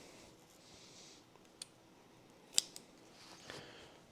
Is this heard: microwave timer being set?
no